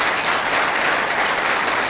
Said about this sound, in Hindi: डेराबस्सी की जनता जरा तालियों के साथ अपनी उपस्थिति दर्ज कराए